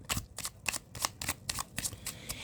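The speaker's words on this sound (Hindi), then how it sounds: "last shuffle" A deck of tarot cards is shuffled close by in a quick, regular run of about nine crisp riffling bursts, with no voices.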